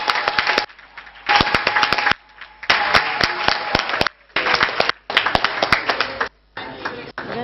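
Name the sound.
audience applauding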